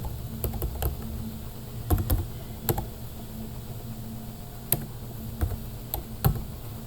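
Numbers being typed on a computer keyboard: sparse, crisp key clicks arrive in short irregular clusters over a quiet background hum, close and fairly faint.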